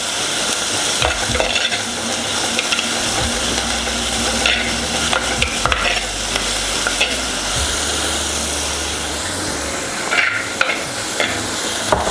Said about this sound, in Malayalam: സവോള ഒന്ന് വഴലുമ്പോൾ നമുക്ക് ഈ നേരത്തെ അരിഞ്ഞ് വെച്ച ചെറിയ തക്കാളി കൂടെ ചേർക്കാം